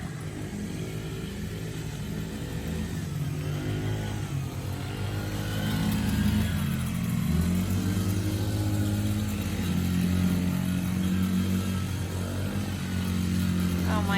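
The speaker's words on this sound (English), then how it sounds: "They're gonna do donuts in the garden." Motorcycles doing soft burnouts in a backyard garden at a home motocross setup, engines droning and revving at a moderate distance, rising and falling in a steady cycle, with faint voices in the background.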